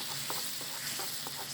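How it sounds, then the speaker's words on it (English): Roasted potatoes being stirred with spicy sauce and lemon juice in a pan, with a few soft scraping strokes over a steady sizzling bubble, no voices. "Now we are gonna mix it up well again."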